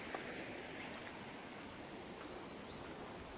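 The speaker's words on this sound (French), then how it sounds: "Petit ruisseau d'eau là." A small stream of water flows with a steady, soft rushing hiss, continuous and fairly faint, with no voices over it.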